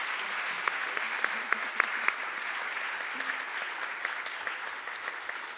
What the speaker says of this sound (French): On peut les applaudir chaleureusement pour avoir...